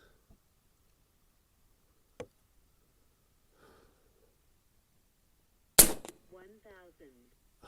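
A single sharp crack rings out from an Umarex Gauntlet 2 .30 caliber hunting airgun, close and loud against near silence. A faint tick comes earlier, and someone speaks briefly right after the shot.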